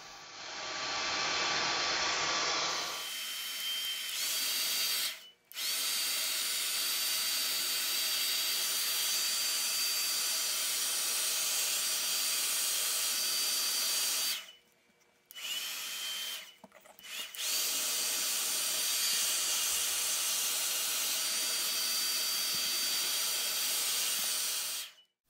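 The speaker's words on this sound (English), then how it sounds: "when you finish using the blow dryer" A hair blow dryer heats an iCarbons vinyl skin on an iPad 2, blowing with a steady, loud, close hiss and whoosh that cuts out briefly a few times before resuming.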